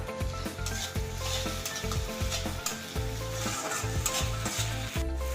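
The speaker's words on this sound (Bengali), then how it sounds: "আদা রসুন দিয়েও কিছুক্ষণ কিন্তু সময় ধরে ভালো করে কষিয়ে নিতে হবে" Ginger-garlic paste ground with red chilli frying in a pan, a loud close sizzle with repeated rhythmic stirring scrapes of a spatula, no talk.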